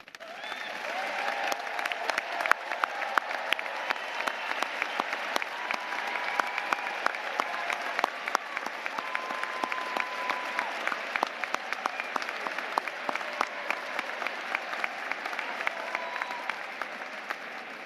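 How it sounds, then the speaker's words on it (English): Sustained applause fills a large university commencement hall as honors graduates stand, a broad crowd of hands clapping steadily with crisp individual claps popping out near and far, faint voices mixed in. "will you please stand so that we can applaud your accomplishments?"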